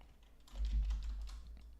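Fingers tap quickly on a computer keyboard, with soft, clicky keystrokes under low background rumble and no voices.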